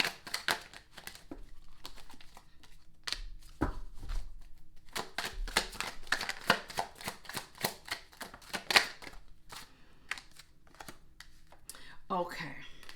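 Tarot cards are shuffled by hand in a run of quick, crisp riffles and flicks, close and fairly faint, with a few brief pauses and soft rustles between bursts.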